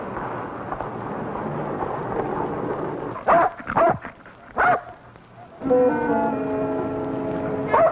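A dog barks in short, loud bursts, several distinct barks spaced irregularly, over a murky background rumble.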